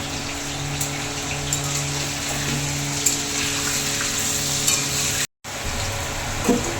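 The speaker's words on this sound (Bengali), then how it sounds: "আলুগুলো লাল লাল করে ভাজা হয়ে গেছে" Potato pieces with a little salt frying in oil for a meat curry, a loud, continuous sizzle with occasional crackles and a brief cut near the end.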